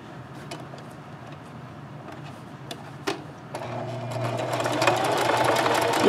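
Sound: sewing machine stitching a scrub cap

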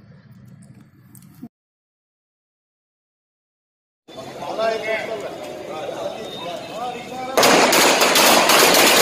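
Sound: firecrackers bursting

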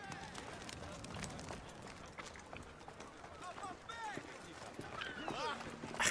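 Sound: horse galloping in Assassin's Creed Odyssey video game

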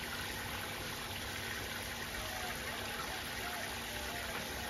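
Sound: pump pumping out shower water

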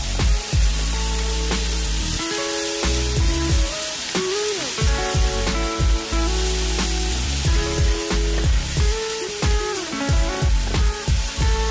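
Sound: garlic sizzling while frying in a pan

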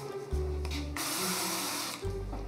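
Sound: cooking oil spray

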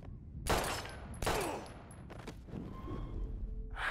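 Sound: gunshots in video game Life is Strange

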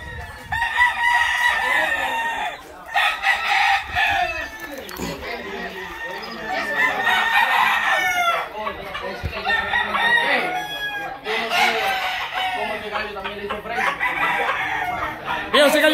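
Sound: roosters crowing and clucking at a gamecock farm

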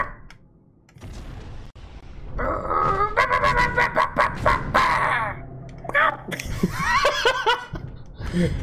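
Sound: people imitating bird noises while playing a video game

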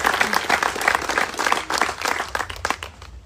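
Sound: audience applause

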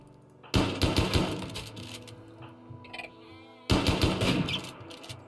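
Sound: gunfire in a video game

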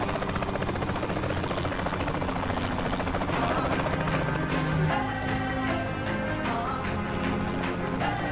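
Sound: helicopter flying, from a video game

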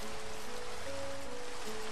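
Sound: rain in the video game Minecraft

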